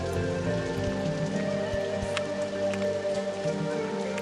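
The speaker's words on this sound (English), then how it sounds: "put down something for guests to utilize when it is raining" Steady rain in the game OpenRCT2 patters on a surface, a dense continuous hiss of drops with a few louder taps, no voices.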